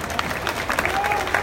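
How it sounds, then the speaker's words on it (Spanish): An audience at a Mother's Day celebration in Sahuayo claps steadily and close, with a crowd murmur underneath the brief burst of applause. "Gracias y un aplauso para todos ellos."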